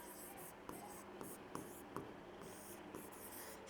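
Chalk or marker scratching across a classroom board as a teacher writes, a run of quick rhythmic strokes with small taps, faint and close, with soft speech around it.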